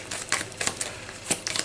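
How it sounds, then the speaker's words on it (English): A deck of playing cards is shuffled during a deckbuilding board game, giving a quick, soft run of papery riffles and flicks, close and quiet. "so that means I can shuffle."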